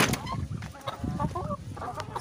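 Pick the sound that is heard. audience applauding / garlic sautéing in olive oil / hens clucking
hens clucking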